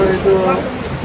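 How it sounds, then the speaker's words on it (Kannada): A heavy hailstorm with rain in Bangalore makes a dense, loud, continuous rushing patter, with a person talking over it. "ಆನೆಕಲ್ಲು ಮಳೆ ನೋಡಿ ಎಷ್ಟು ಚೆನ್ನಾಗಿದೆ ಅಂತ."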